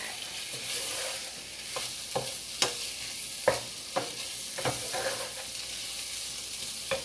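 Vegan meatless strips fry in a pan with a steady, close sizzle, punctuated by a series of short stirring and scraping taps, no voices.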